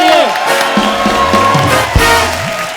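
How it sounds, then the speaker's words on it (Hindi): A studio audience at a comedy talk show cheers and applauds loudly and steadily for nearly three seconds, mixed with excited voices. "जोरदार तालियां मेरे लिए।"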